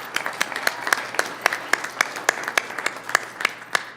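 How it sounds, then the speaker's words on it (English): An audience at a city council meeting gives a round of applause for a departing staff member, a steady run of sharp, close claps from a smallish crowd, alone and with no talk. "Please, everybody, give a little round of applause for Amy."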